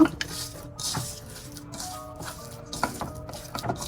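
Boiled potato is mashed and mixed with crispy fried onion for aloo bhorta, giving soft squishy presses and light clinks of a utensil against a bowl or plate, close and intermittent.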